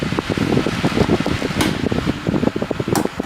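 A SOGO JPN-682 rechargeable fan runs at full speed nearby, producing a steady whooshing whir with a fluttering, rattly texture and no speech.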